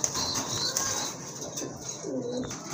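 A pigeon gives a soft, low coo nearby against a faint background hiss.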